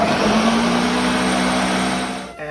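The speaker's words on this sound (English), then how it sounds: "I'll be putting these cucumbers in a blender" Blender running on chopped, peeled cucumbers for soup, a steady loud motor whir with a slight pitch rise, close up, cutting off abruptly near the end.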